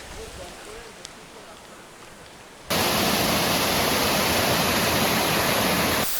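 Stream water rushing beneath a bridge on the way to Jhikira waterfall in Keonjhar, faint flow under the first seconds, then a loud, dense, continuous roar of water filling the rest.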